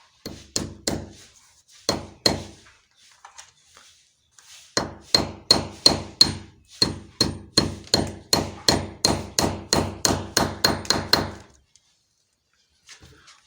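Steel nails driven with a hammer to fix clips for PVC wall panels in a house interior built in 1960, loud close blows in quick runs of a dozen or more sharp knocks, separated by brief pauses and a few lighter taps.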